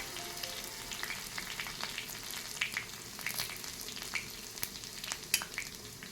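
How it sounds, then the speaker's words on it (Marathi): Garlic fries in hot oil with a steady close sizzle and crackle, punctuated by soft stirring scrapes, for a tempering poured over a spinach dish. "थोडस लसणाला आपल्याला हलवून घ्यायचं आहे"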